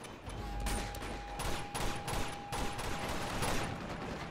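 Gunfire from soldiers in an Uncharted 2 firefight comes as repeated bursts and volleys over a constant game hum. It is moderately loud and crackling, with short gaps between the barrages, and no one speaks.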